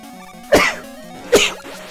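Two short, sharp sneeze-like bursts from a person, about a second apart, close and loud against quiet video-game background music.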